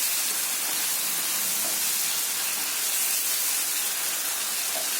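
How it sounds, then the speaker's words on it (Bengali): Pieces of boal fish frying in oil give a steady, even sizzling hiss throughout, with a few faint pops above it and no talking. "একটু ভালো করে ভাজা ভাজা করে দিন।"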